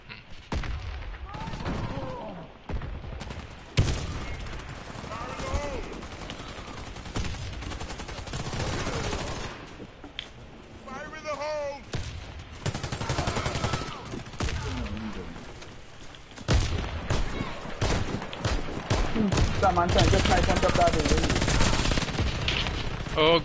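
Dense automatic gunfire in the online shooter Warface, with rapid bursts overlapping and occasional heavier booms, layered loosely with a noisy background of game sound and building to a sustained roar near the end.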